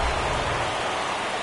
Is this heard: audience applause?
no